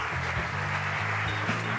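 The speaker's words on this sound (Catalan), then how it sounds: "un aplaudiment per ells" Applause from a concert audience for the technical crew of a choir show, a steady dense wash of clapping holding throughout with a low musical hum underneath.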